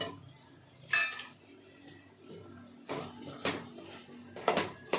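Spoon clinks and scrapes against a pot as coriander and garam masala powders are stirred into a homemade Telugu-style chicken curry, with a few sharp metallic knocks spaced over a quiet background.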